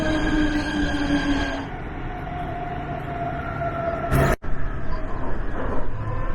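A metro train rumbles and hums loudly throughout, with a steady tonal whine that drops away partway through and a brief burst of noise, heard up close from the platform or carriage.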